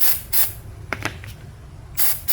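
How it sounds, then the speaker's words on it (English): Short hissing bursts of silicone spray aimed at a fuel injector O-ring on a 2015 Toyota Corolla 1.8L 2ZR-FE, with three separate spurts heard close up amid faint handling clicks. "I put the little bit of the silicone spray in the back,"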